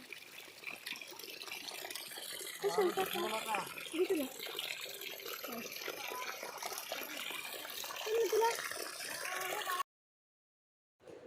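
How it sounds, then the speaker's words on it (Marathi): Water flows and gurgles steadily like a small stream as it runs from a farm field back to the river, with people talking over it at times; the sound cuts off abruptly near the end. "हे मंजूळ असं झुळझुळ वाहणारं पाणी शेतातून परत रिटर्न नदीला चाललेलं"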